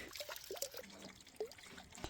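Water from a small seeping spring in a tiny dug pool in Uttarakhand's Mandani Valley being collected into a container, giving faint, close trickling, dripping and gurgling plops against quiet outdoor background, no talking.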